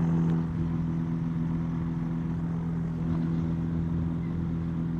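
A small airplane engine runs steadily at warm-up power on a frosty day, a loud, even drone with strong low harmonics holding constant throughout, no talk over it.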